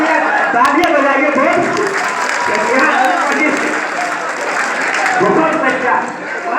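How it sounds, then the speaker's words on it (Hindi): Broad wash of crowd applause at a shayri poetry recital in Malegaon, steady and fairly loud with murmuring voices and shouts of approval blended in. "तालियां बजाइए"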